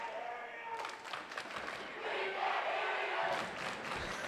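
Bishop Guertin fans chanting at a high school volleyball match at Bedford, New Hampshire, a crowd roar swelling and sustained in a gym, with rhythmic shouted chant and some claps.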